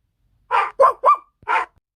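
A dog gives four quick, close barks in an uneven rhythm, used as a sound effect within a Korean children's story about a tiger.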